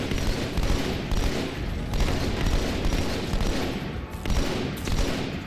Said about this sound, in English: Considering the mass amount of grenades that I've got.